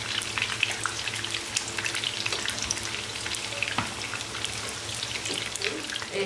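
Eggplant slices fry in hot oil with a continuous close sizzle and scattered sharp pops and crackles, steady throughout with no voices.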